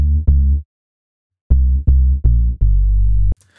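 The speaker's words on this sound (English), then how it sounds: "on this little bit of a bass loop that I've got in my sample pack folder" Clean bass loop from a sample pack, a short punchy note, a pause, then four quick repeated notes ending in a held tone, loud, dry and close with no voices.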